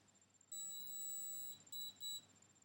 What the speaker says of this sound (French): Ça fait bip long, long, ça veut dire que c'est terminé.